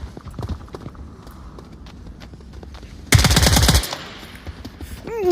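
Rapid automatic gunfire at a shooting range, a loud close burst of fast shots lasting under a second after quieter scattered pops, with brief voice sounds at the end.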